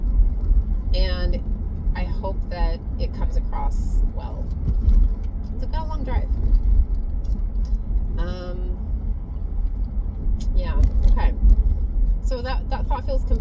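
Steady low car cabin rumble throughout a long drive, with a person talking continuously over the engine and road noise.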